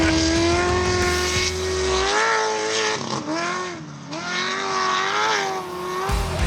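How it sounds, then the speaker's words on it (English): A 7-litre off-road race car in the Gundy 500 in Australia roars loud and close, its engine revving up and down in a strong, rising and falling howl with no talk. "That is a fantastic sounding car."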